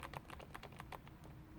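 An external keyboard connected to an iPad clicks as keys are typed in a quick, irregular run of sharp taps, close and fairly quiet, with no speech.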